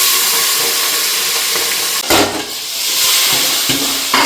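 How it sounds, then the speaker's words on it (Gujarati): Mustard seeds and cumin crackle and sizzle loudly in hot oil, tempering for a home-style green chili curry, with a continuous close-up hiss and a brief stirring clatter partway through. "વઘાર કરી દીધો"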